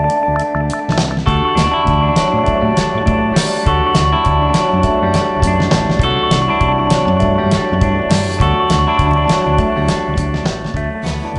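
Radio interlude music plays continuously at steady, full volume, a dense instrumental mix with driving rhythm and layered tones and no voices over it.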